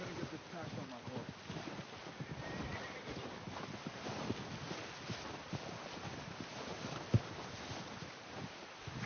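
A horse in the video game Red Dead Redemption 2 clip-clops and whinnies against a windy outdoor backdrop, with hooves and snorts fairly close, while a player talks over the game sound.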